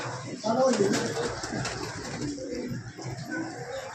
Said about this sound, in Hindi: माशाल्लाह क्या खूबसूरत कबूतर है।